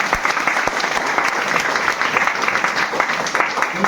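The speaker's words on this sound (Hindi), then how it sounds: "बजाओ ताली।" Steady, dense applause from an audience at a business opportunity seminar in Isuapur, Chapra, many hands clapping together continuously throughout, loud and close with no talking over it.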